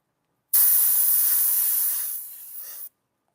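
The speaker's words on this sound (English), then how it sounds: "You notice you don't need a lot of paint when you do airbrush." A continuous airbrush spraying paint through stencils hisses steadily for a little over two seconds, then thins and quiets slightly before stopping abruptly.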